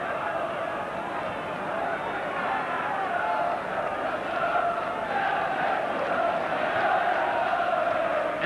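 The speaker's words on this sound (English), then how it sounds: "The crowd willing this goal." Newcastle football crowd at a 1984 home match roars steadily in a dense, sustained wall of cheering and chanting, urging the team toward goal, with commentary audible over it.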